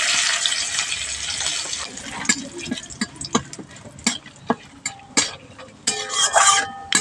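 Whole cumin seeds, two dried red chillies and a bay leaf hit hot mustard oil in a pan, giving a steady close sizzle and scattered sharp crackles and pops, with a louder spitting burst near the end.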